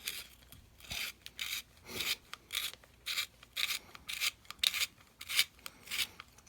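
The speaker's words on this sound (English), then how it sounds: "Nowadays, the 4-hole pencil sharpener, and you know, as easy as it sounds, you start with the big hole." A drawing pencil is turned in the big hole of a 4-hole hand sharpener, giving a rhythmic series of close, dry rasping scrapes, about two per second, with no voices.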